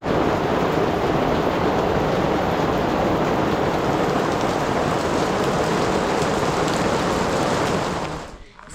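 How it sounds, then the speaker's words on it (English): Rain falling in the Corsican mountains, a dense, steady roar of drops that stays loud and even for several seconds before cutting off abruptly at the end. "It's just started to rain"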